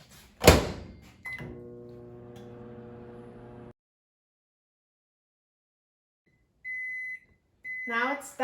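A microwave oven hums as it finishes melting chocolate chips, then stops; a steady hum with a ringing tone follows a thunk, then after a pause comes a clear electronic beep before a voice begins.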